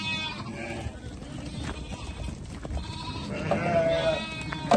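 Sheep in a flock of ewes with twin lambs bleat several times nearby over a rough outdoor background. The clearest calls come near the end, and a faint voice is also present.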